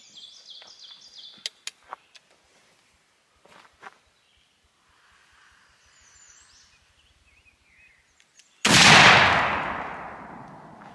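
A choked muzzleloading shotgun loaded with an over powder card and 7.5 shot fires once, a single loud outdoor blast with a decaying tail after quiet moments of faint birds and footsteps.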